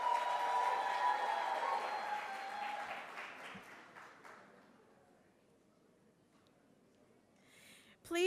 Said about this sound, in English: Next, some round of applause for the Water Resources Authority.